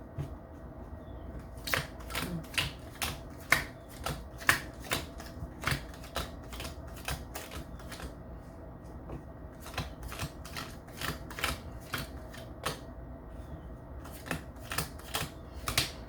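Tarot cards are shuffled over and over, a series of crisp, snapping flicks in an uneven rhythm, heard on their own with no talking.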